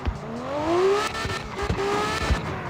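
A drift car in the CarX racing video game brakes, pulls the handbrake and gets back on the throttle, its engine rising and falling in pitch with tire squeal, loud and close, without talk over it.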